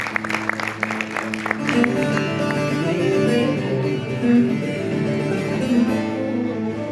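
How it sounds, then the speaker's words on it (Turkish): Short burst of audience clapping at a community association gathering, lasting under two seconds before giving way to sustained tonal voices or music. "lütfen çok güzel bir alkış"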